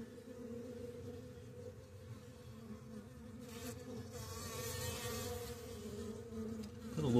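Overwintered Carniolan honey bees buzz inside a hive in spring, a faint, continuous droning hum that swells slightly toward the end, with no talking.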